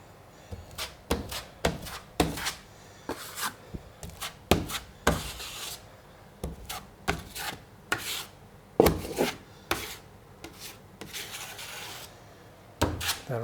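A trowel laying a bed of joint compound on drywall in an 1880 house renovation, giving a string of close, rough scraping strokes in an irregular rhythm with brief pauses between passes.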